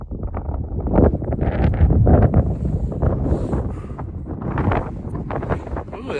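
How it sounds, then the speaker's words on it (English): Wind gusting through Palo Duro Canyon in Texas, a broad, rumbling buffet close on the microphone that swells and eases over several seconds, with cold gusts dominating throughout. "Ooh, that wind just picked up."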